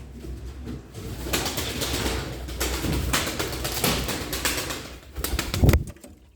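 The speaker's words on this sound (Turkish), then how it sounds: "bir saate yakın kanat sallıyor hayvan" Rapid wing flaps from a pigeon beat in fluttering bursts, close by, with a few louder thumps of wings near the end.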